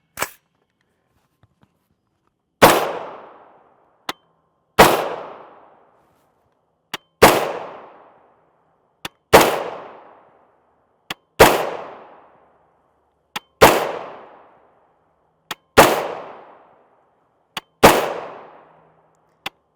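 Nine sharp, loud rifle reports from 300 BLK 150gr FMJ Ammo Inc ammunition fired through a QD muzzle brake, spaced about two seconds apart, each followed by a brief ringing decay, with faint clicks between shots.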